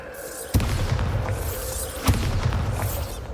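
Bombarda spell blasts in the Hogwarts Legacy video game hit as two deep booming bursts, about a second and a half apart, over a constant loud rumbling game soundtrack.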